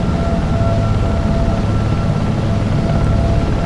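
A Sikorsky Sea King SH-3 helicopter hovers in the X-Plane flight simulator, giving a steady, loud, droning engine and rotor roar with a low rumble and faint tonal whine, unbroken throughout.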